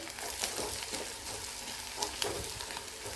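Turmeric and coriander powder stirred in a frying pan over hot oil, with a steady close sizzle and a few soft scrapes of the spoon, no talk.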